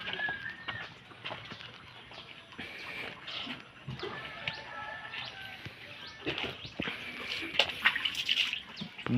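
High-tide seawater sloshes and splashes nearby, reaching a house, under chirping birds, with a few short voices and laughter breaking in now and then.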